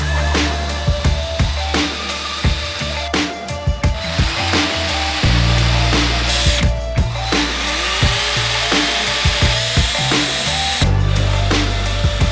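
A power drill drives screws into a 1x2 wood strip while a fold-away Murphy bed is built, with loud close whirring runs and ratcheting clicks and short pauses between screws.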